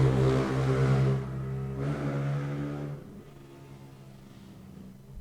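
A motorcycle with a loud exhaust passes outside, its engine drone strong and harmonic at first, then fading and receding into the distance after a few seconds.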